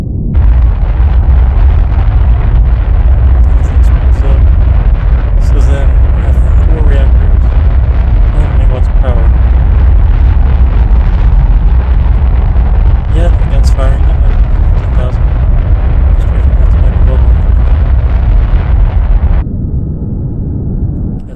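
Starship engines at full throttle in The Last Starship give a loud, continuous roaring rumble with crackling bursts, steady for most of the stretch before dropping to a lower drone near the end.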